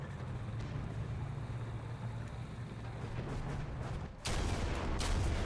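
A sudden loud tank gun blast near the end cuts through steady engine rumble and battle noise in War Thunder.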